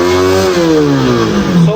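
A motorcycle engine fitted with a racing CDI revs steadily at high RPM, a loud, close buzzing drone whose pitch slides gradually downward.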